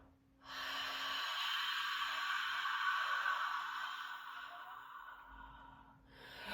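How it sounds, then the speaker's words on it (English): A long, steady exhale during a guided breathing exercise for post-pregnancy core recovery, a soft airy rush of breath close to the microphone lasting several seconds before trailing off. "Inhale. And now exhale."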